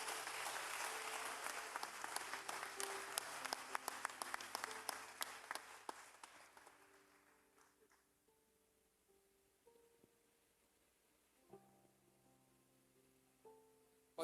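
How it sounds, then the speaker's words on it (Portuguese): A church congregation applauds loudly and densely, the clapping thinning out and fading over several seconds. Soft organ or keyboard tones carry on underneath and remain after the applause dies away. "Vamos aplaudir mais uma vez?"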